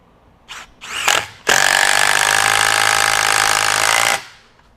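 A Bosch Freak GDX18V-1860C impact driver in speed 3 sinks a 3.5-inch exterior deck screw into pressure-treated lumber: a few short bursts of hammering, then one loud, sustained rattling impact run of about three seconds that stops abruptly.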